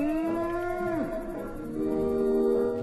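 A cow on a working cattle ranch gives a long, loud, deep moo that slides down in pitch and then carries on as a lower drawn-out bellow, close by, with no one speaking.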